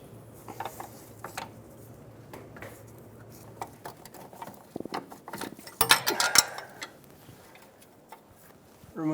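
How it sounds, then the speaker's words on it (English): A 17mm wrench turns a power steering line nut on a 2007-2011 Toyota Camry, with scattered metallic clicks, ratcheting and tool taps at close range and a brief louder clatter partway through. "Pull the top line out of the rack using a 17mm wrench."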